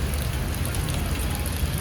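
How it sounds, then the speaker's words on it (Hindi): Heavy rain pours outdoors near a shopping mall. It gives a dense, unbroken hiss and patter that stays close and even throughout, with no talking. "बहुत तेज़ बारिश हो रही है"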